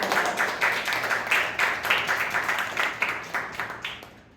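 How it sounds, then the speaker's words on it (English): A round of applause from the audience at a Toastmasters club meeting, moderate and steady with irregular clap peaks, fading slightly toward the end, no voices over it. "please give another round of applause"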